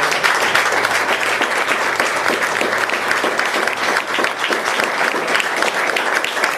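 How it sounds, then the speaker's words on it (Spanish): Loud, sustained audience applause at a 37th anniversary event of a Uruguayan communist party, dense and steady clapping from a large crowd with no talking over it. "el compañero Carlos Flores, para el que pido un fuerte aplauso."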